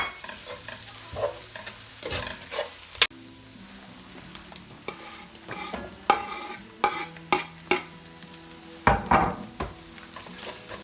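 Onions and ginger garlic paste fry in a pan for chicken korma, with the spoon stirring in irregular scraping bursts over a steady low sizzle; close and moderately loud, with no talking.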